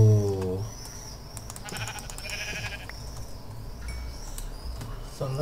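A sheep in the Minecraft video game bleats in a wavering tone, loud at the very start and again near the end, over a faint background of game ambience.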